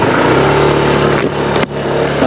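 A Honda Vario 160 ABS 2022 scooter engine drones loudly while riding, a steady close hum that briefly dips twice as the throttle eases before picking back up.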